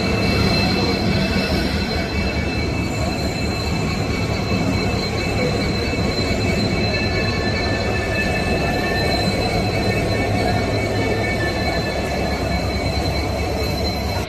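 A train at a railway station gives a steady, loud rolling rumble with persistent high metallic ringing and squealing from the wheels, continuous throughout with no talk.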